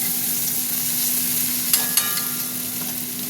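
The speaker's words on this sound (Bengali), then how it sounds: "পেঁয়াজটা একটু ভাজা ভাজা হোক" Onions frying in a pan for a fish curry, with a continuous close hiss of sizzling oil and a couple of sharp clinks of a utensil partway through.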